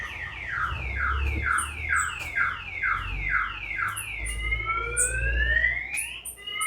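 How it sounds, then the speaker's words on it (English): A car alarm goes off nearby outdoors in Jamaica, cycling through loud rising and falling siren whoops that repeat in a steady rhythm, then shift into a long sweeping tone and short beeps. "you hear alarm go off"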